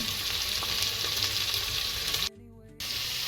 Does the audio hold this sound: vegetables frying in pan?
yes